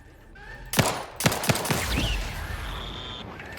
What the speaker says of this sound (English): Well, that's a turret over there.